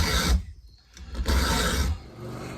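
A chainsaw chain is filed by hand, giving raspy rubbing strokes up close, two longer scrapes separated by a short pause.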